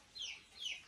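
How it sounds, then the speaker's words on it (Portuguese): A young chick gives two high, thin peeps, each a brief downward-sweeping chirp, close by and fairly soft, with a short gap between them and no talking. "mas só é um pintinho"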